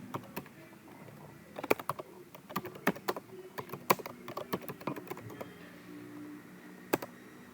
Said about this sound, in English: So I'll type it out.